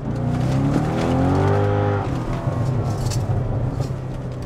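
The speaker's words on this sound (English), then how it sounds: "Pretty good rev match there." A C6 Corvette fitted with universal valved mufflers blips its V8 hard on a rev-matched downshift, the engine note rising and falling loudly and close, with a steady exhaust drone afterward.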